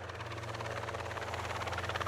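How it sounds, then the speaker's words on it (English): A helicopter flies overhead toward Hong Kong in the early evening, a steady, loud rotor thrum with a continuous low drone throughout, no voices. "we now focus on Milton Cheng's helicopter in the sky as it rides towards the metropolis of Hong Kong at 5:40 p.m"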